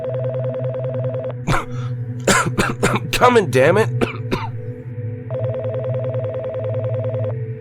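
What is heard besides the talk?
telephone ringing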